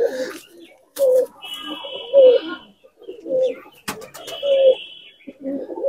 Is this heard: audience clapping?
no